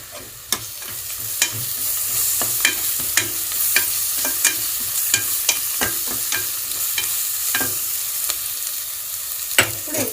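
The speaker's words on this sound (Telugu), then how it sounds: "1 స్పూన్ అల్లం వెల్లుల్లి పేస్ట్ వేసుకొని మంచిగా కలుపుకుందాం." Ginger garlic paste fries in oil while a spoon stirs it through, a continuous close sizzle punctuated by regular sharp scraping clicks against the pan.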